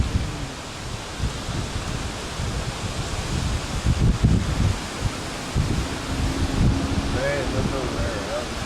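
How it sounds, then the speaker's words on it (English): Wind ahead of a thunderstorm, strong gusting rush and microphone buffeting that surges and fades throughout, with people talking faintly beneath it. "We're fixing to get the wind."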